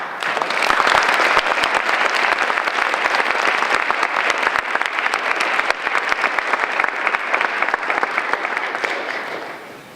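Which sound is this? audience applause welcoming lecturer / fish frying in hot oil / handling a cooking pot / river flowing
audience applause welcoming lecturer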